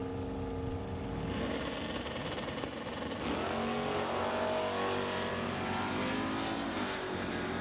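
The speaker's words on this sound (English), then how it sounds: "The Malibu wagon will leave first compared to the Stone Cold Racing Dodge." Drag race cars, a Malibu wagon against a Stone Cold Racing Dodge, rumble and roar with a continuous, loud engine drone that builds and revs. The sound is fairly distant and without talk.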